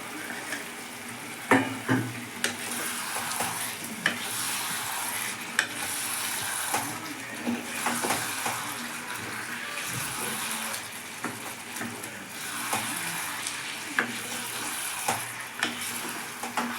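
Chicken pieces for a chicken roast frying in a pan, a continuous sizzle broken by repeated scraping stirs and occasional louder clunks of the spoon, no talking.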